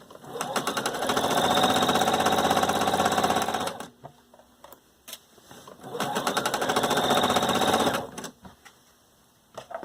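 A sewing machine runs in two fast, steady bursts of stitching, each lasting several seconds with a short quiet pause between them, loud and close.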